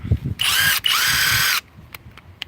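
A SKIL PWRCORE 12V brushless impact driver runs in two close, loud bursts, a short one followed by a longer one about three-quarters of a second long. Each is a high, whirring buzz with only faint background noise around it.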